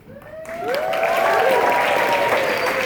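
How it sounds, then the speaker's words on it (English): A live audience at a fan fest stage reading of a cartoon script bursts into applause, swelling quickly from near silence into a steady, loud wash of clapping and cheering voices. "Everyone applauds."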